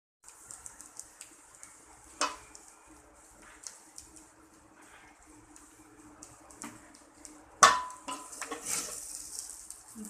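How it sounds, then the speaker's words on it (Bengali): Drained pulao rice tipped into a cooking pan and stirred, with faint scraping and clinks of a utensil against metal, a couple of sharper knocks and soft frying sizzle, close but quiet. "ঝরিয়ে রাখা পোলার চালটা দিয়ে দিব।"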